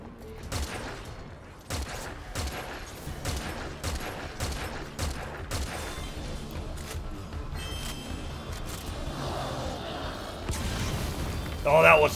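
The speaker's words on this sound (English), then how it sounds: "Like two mounted machine guns." Two mounted machine guns in Metal Gear Survive fire in repeated loud bursts, dense sharp reports stacking over a rumbling background, with a brief louder blast at the close.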